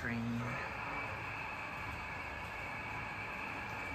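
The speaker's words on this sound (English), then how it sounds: "Over there, you can find another long-ass train." A model train rumbles steadily along the tracks at a distance, a continuous low mechanical drone with a faint high whine, in a model railroad museum.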